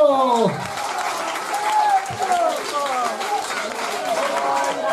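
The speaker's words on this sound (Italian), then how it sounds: "Applauso!" Applause from a crowd at a summer evening event, loud and dense at first, with voices calling and chattering over the clapping throughout.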